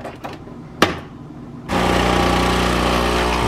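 A coffee machine frothing milk: a loud, steady mechanical roar starts abruptly after some quieter clinks and a sharp knock, then drones on with a deep rumble and broad hiss, shaking the counter.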